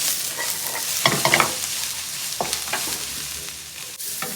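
Mushrooms and carrots frying in a pan for pad Thai, a steady close sizzle broken by a few clattering stirs near the start and occasional scrapes later, with no talk.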